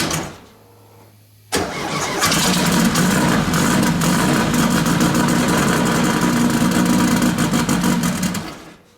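A car engine being tuned on a cold start catches after a quiet moment, then settles into a loud, rough, steady idle close by, with an uneven, lumpy rhythm that holds until it cuts off abruptly.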